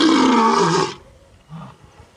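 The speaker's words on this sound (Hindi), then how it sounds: "ये शेर की आवाज तो है" A recorded lion roar played as a sound effect bursts out loud and harsh for almost a second, then stops abruptly; a short, low grunt follows after a pause.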